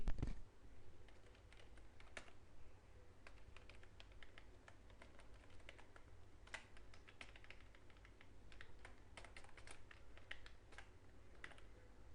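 Numbers are typed into an Excel sheet on a computer keyboard: a quiet, steady run of light key clicks with irregular spacing, close by and alone over faint room hum.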